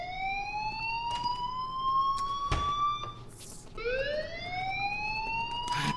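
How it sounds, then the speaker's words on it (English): A fire alarm goes off in the video game Life is Strange, a loud wailing siren tone that rises steadily, breaks off briefly and starts again, with a couple of sharp thumps, and no talking. "Right, use the hammer. Fire up the alarm."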